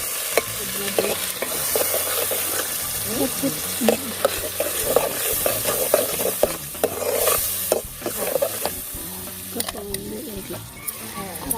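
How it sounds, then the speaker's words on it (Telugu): Steady sizzling of curry puree frying in oil, with scraping and stirring clicks throughout and occasional clatters of utensils against the pan. "ప్యూరీ కూడా వేసేసుకోవాలి వేసి పచ్చివాసన పోయేంత వరకు ఫ్రై చేసుకోవాలన్నమాట"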